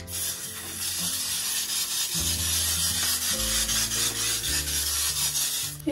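A wig's hair is brushed in steady, repeated rasping strokes close up, with background music running underneath.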